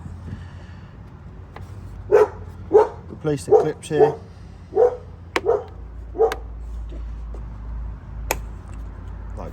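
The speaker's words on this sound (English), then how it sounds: "Dog saying hello to the neighbours." A dog barks repeatedly nearby in a burst of about eight sharp woofs, with a few fainter barks before and after, set against low background rumble during a Volvo V70 headlight bulb job.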